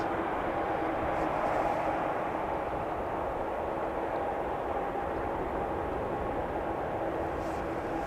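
Boeing 747 taking off at Amsterdam Schiphol, a continuous heavy jet engine roar with broad rumble, steady and sustained at a moderate distance.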